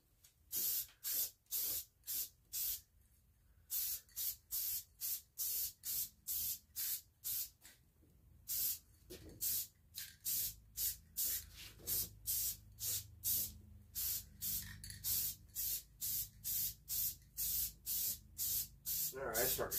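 Paint sprays onto a 1940s Motorola table radio in a long series of short, sharp hissing bursts at a regular rhythm, with brief pauses and someone speaking at times between them.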